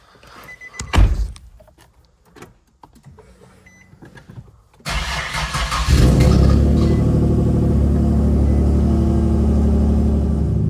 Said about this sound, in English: glad to finally see this car running again